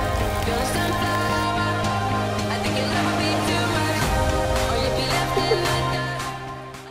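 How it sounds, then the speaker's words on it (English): Steady rain patters across a surface, a dense continuous hiss with a few louder drops, fading slightly toward the end. "Why is it raining now?"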